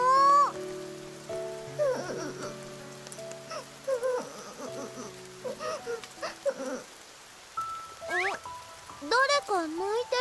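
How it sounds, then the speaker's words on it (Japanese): Soft, steady rain patters beneath light chiming melody and brief high vocal whimpers in the Princess Connect Re:Dive video game. The rain stays faint and continuous throughout. "わあ、また雨か。"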